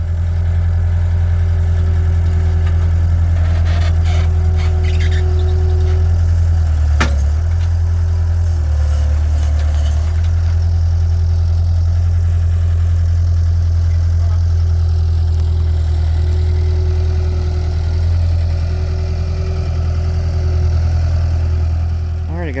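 A sawmill engine idles steadily and loudly with a low, constant drone, and a few brief clanks and thumps come through, while a big cherry log waits on the mill.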